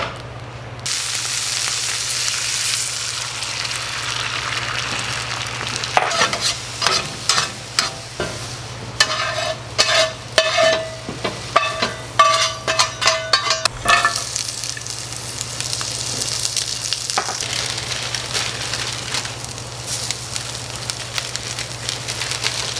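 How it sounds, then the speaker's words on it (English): Kale and a protein mix sauté in a hot pan: a steady, close sizzle runs throughout, with a stretch of quick stirring and scraping clatter in the middle, and no voices. "So I'm just gonna saute all this up real quick,"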